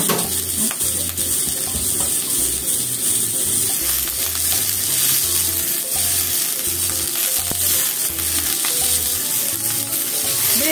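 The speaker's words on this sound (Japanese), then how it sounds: "で、キャベツも一緒に炒めましょう。" Cabbage and shimeji mushrooms stir-fry in a hot pan, giving a steady, close sizzle with soft scraping and stirring sounds throughout, and no talking.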